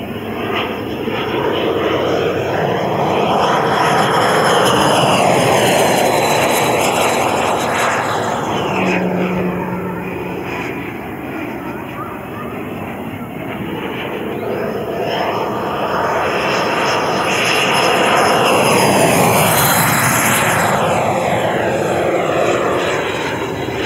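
An Odyssey JETFAN-130 PRO electric ducted-fan model jet, 12 kW and 14.5 kg, takes off with a loud, sustained turbine-like whine that swells and fades as it passes overhead twice, sweeping up and down in pitch.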